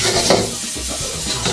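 Chopped onion frying in a pan for a curry, a continuous soft sizzle with brief scraping stirs and light clinks of utensil against the pan, close and steady with no talking.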